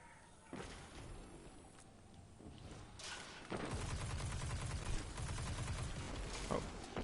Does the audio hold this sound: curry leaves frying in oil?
no